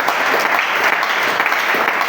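A church congregation at a morning prayer service applauding to acclaim the Lord, a dense, loud, continuous wash of clapping hands filling the room with no break.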